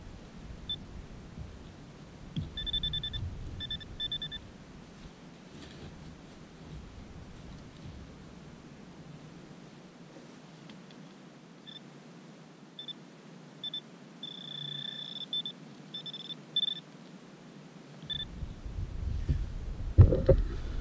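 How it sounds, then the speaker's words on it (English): Metal detector checking a dig hole for a buried coin: repeated short electronic tones around 3-4 seconds and again near 14-17 seconds, fairly faint over outdoor background noise. "I'll get up and check it with the detector"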